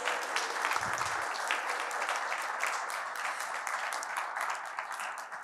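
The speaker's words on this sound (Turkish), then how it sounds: "bütün kazananlarımızı aynı karede alkışlıyoruz" Steady, dense applause from a crowd at a short film award ceremony fills the whole stretch, many hands clapping continuously at an even level.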